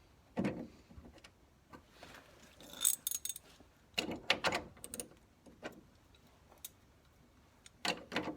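Manual Kmart ratchet clicking while leaf springs are replaced on a 1966 Dodge Dart GT, with scattered short bursts of sharp mechanical ticks, close but quiet, separated by pauses and no talk.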